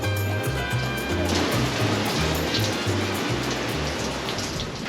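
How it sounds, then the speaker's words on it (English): Heavy rain driven sideways by wind on an exposed clifftop coast in Tasmania, a loud, continuous broadband wash with gusty buffeting throughout and no pauses. "Rain's coming in sideways."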